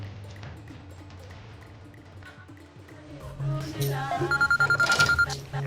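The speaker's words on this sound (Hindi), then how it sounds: "सैम अगर मैं तेरा फोन काट रही हूँ तो बार बार क्यों फोन कर रहा है?" A phone rings with a bright repeating electronic tone that comes in partway through, rising over a background of music and murmuring.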